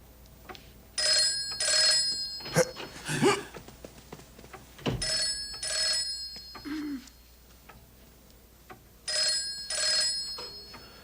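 An old-style telephone bell rings in three separate double-ring bursts, loud and near, with thumps and scattered indoor noises between the rings and no voices.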